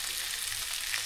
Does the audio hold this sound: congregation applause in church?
no